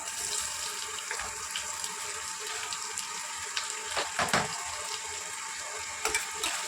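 Finely chopped onions deep frying in hot oil for an egg gravy, a steady broadband hiss of bubbling oil running throughout with a few brief louder crackles and spatters near the middle and end; no talking.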